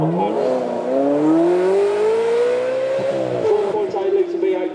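A McLaren 600LT with a 4.8 litre twin-turbo V8 holds a loud, steady engine note that climbs gradually in pitch as it accelerates past at a supercar event, then wavers and fades slightly.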